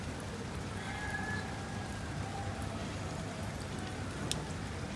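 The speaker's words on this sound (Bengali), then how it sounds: "বৃষ্টি পড়তেছে।" Rain falling steadily on a home vegetable garden with bean and pumpkin plants, a soft, even patter with a few brief, faint tonal sounds in the background and no speech.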